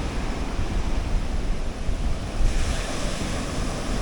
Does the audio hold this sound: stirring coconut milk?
no